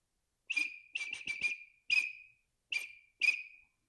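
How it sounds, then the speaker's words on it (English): A handheld whistle blown in short bright bursts, a teacher's signal for calling a school class to line up: about seven quick toots in irregular clusters, clear and close against silence. "You had a little thing you would do with your whistle."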